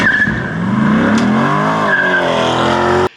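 Corvette C8 launching under launch control, its tires squealing and skidding as the engine pitch rises and sweeps over about three seconds, close and loud.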